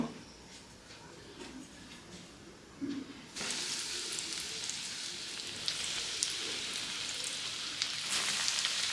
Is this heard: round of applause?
no